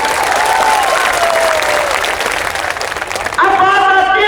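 A large crowd at an outdoor rally breaks into loud, sustained clapping and cheering, a dense wash of applause that swells throughout, with a voice carrying over it and whistling near the end.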